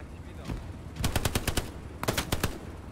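Machine gun fire in the World War II shooter Hell Let Loose, two sharp bursts of rapid rounds about a second apart, loud and close over a low background rumble.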